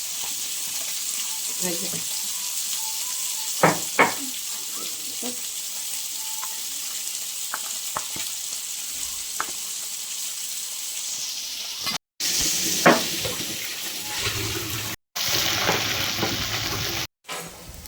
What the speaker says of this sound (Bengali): লাল লাল করে মুচমুচা করে ভেজে নিয়েছি